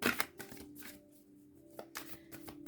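Playing cards are shuffled by hand for a card reading, quiet riffling bursts at the start and again near the end, close and soft in a calm indoor room.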